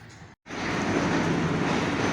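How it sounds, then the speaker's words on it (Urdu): Railway engine moving through Lahore railway station, a loud continuous rumble with rolling wheel noise after a brief cut, steady and close throughout. "یہ ایک ریلوے انجن جا رہا ہے"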